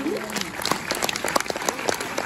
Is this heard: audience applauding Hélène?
yes